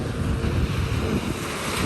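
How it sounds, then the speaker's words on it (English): Choppy ocean surf washes steadily at Miami Beach with a breeze gusting over the microphone, a constant broadband rush of waves and wind, fairly loud and without voices. "There's a bit of a breeze right now."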